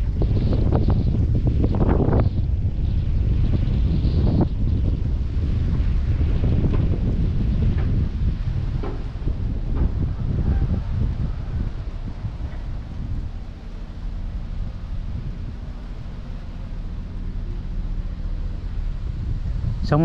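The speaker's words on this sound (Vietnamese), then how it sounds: "sáng này có gió rét ghê các bạn." Cold wind buffets a microphone near a river bridge on a highway in Hoai An district, a loud continuous rumbling roar with gusty swells throughout and no talk.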